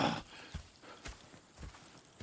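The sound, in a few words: horses clip-clopping in Red Dead Redemption 2, a video game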